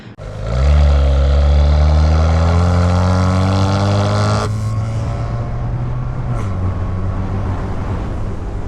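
A Kia Stinger twin-turbo engine roars loudly as it revs up, then drops in pitch with a downshift and settles into a lower, steady drone, close and dominant.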